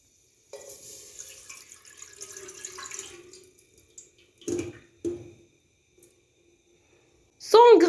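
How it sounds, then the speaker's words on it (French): Water, 250 ml, being poured into a pan for chestnut cream while baking a chestnut sponge cake, a short splashing pour followed by a few clinks and knocks of kitchenware, near. "je vais mettre 250 ml d'eau"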